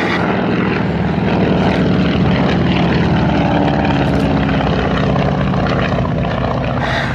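Propeller-driven vintage military aircraft, built for the US Army Air Forces, flying at the Duxford summer air show, a loud sustained engine drone from overhead.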